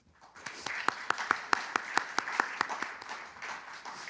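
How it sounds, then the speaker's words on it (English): Scattered clapping builds into a short round of applause from a small audience, with distinct individual claps echoing in a room. "And a round of applause, please."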